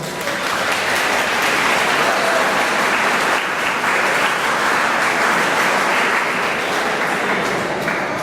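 An audience at a poetry recital in a school claps loudly and steadily for several seconds, a dense, sustained wave of applause with no pauses.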